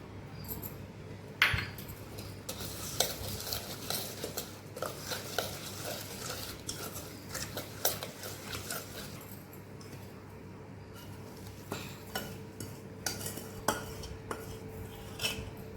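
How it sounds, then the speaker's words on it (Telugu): Chili powder is stirred into cooked grated raw mango, with irregular scraping and clinking of a spoon against a vessel over a quiet background. "ఇప్పుడు కారం కలుపుకుందాం"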